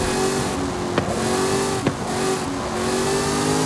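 A car races at full speed through an overtake, its engine droning steadily up close with two brief whooshing passes of other vehicles.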